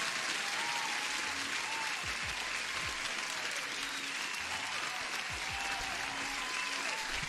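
Sustained crowd applause fills the whole stretch, a dense even wash of clapping with a few faint low thumps underneath.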